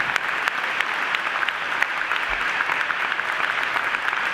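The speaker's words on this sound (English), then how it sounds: "we give all of our elders a big round of applause" Audience applause for community elders at an evening peace gathering, steady dense clapping from a crowd filling the whole stretch at even strength, with no voices over it.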